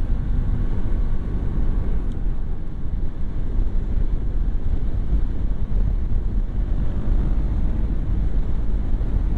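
Strong wind buffets the microphone while riding a motorcycle, producing a constant low, roaring rumble that fills the whole stretch with no voices.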